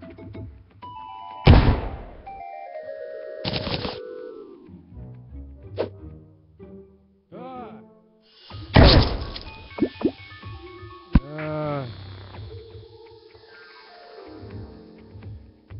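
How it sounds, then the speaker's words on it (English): A sticky bomb explodes in the video game Terraria. Sharp, noisy blasts ring out amid a busy mix of chiming, bubbling and splashy game effects, with a second burst partway through. "I was killed by my own sticky bomb."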